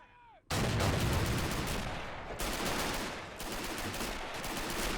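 Dense gunfire crackles in a World War II combat video game running a realism mod, sustained overlapping rifle and machine-gun bursts during a river assault, loud and continuous after a brief quiet start.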